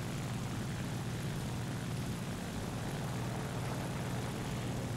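Engine of an A7M1 or A7M2 Japanese fighter plane in the combat flight game War Thunder: a loud, steady propeller-engine drone that holds unbroken throughout, with no talking.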